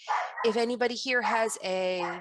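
A household dog barks and yips during an online lesson, sharp repeated barks tangled with a teacher's speaking voice, close and fairly loud.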